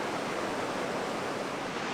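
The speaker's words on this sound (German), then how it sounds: "Yeah, die Wellen sind hier richtig gut." Steady surf rolls in at a surfing beach in India, a continuous broad roar of breaking ocean waves with no distinct pauses, fairly loud and unbroken throughout.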